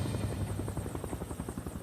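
A helicopter flying over an airliner crash site in mountainous terrain, its rotor thumping in a rapid, steady chop with an engine whine above, moderately close and continuous.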